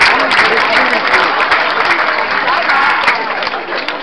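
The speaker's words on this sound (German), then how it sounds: "Applaus für die Polizei." A crowd at the Haspe May festival in Germany claps for the police, a loud, dense and steady round of applause filling the whole stretch, with some voices mixed in.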